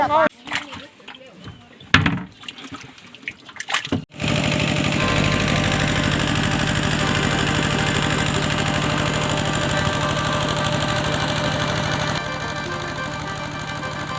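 An engine-driven pump runs loudly and continuously while draining a pond to catch fish, a steady droning rumble that starts abruptly after a few seconds of outdoor noise and voices.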